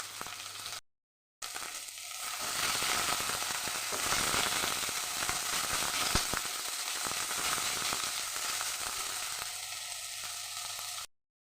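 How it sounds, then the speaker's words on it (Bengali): Onion sizzles steadily in hot oil in a pan, cooked as the base for a spicy okra curry, giving a dense, continuous crackling hiss broken only by a short gap near the start, with no voices. "পেঁয়াজ ভাজা হয়ে গেছে"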